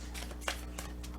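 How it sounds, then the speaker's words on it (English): A new, slippery deck of cards shuffled hand to hand nearby, with soft brushing riffles and a few light slaps repeating over a steady background hum. "I will take the card that comes from the hand-to-hand shuffle"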